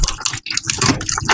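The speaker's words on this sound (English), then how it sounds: "The noise you are hearing now is the ice cubes being crushed by the spiral." Spiral dough mixer churning bagel dough with ice cubes, a loud continuous crunching, sloshing churn with brief gaps and grinding bursts, close and alone with no voices.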